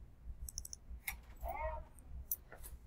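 A few faint, sharp computer mouse clicks while renaming a flash drive on a PC, isolated taps spaced across a quiet room with low background hum.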